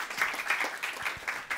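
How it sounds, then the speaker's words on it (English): Scattered audience applause after a conference talk, a short burst of clapping with distinct individual claps standing out, moderately loud and brief. "Let's give applause."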